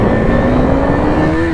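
A motorcycle with a cracked, broken metal chassis side revs hard for a wheelie attempt, its loud, steady engine note rising in pitch over about a second and a half, close to the listener.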